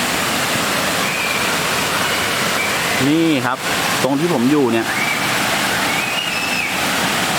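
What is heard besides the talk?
stream flowing over rocks beside a waterfall campsite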